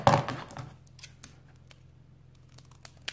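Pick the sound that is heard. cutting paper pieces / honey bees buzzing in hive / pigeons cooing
cutting paper pieces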